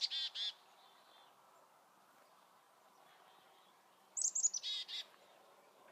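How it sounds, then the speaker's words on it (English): A chickadee calls outdoors beside a stream: a few short, high chirps at the start, then quiet, then another quick cluster of bright calls over a faint, steady background. "I love chickadees."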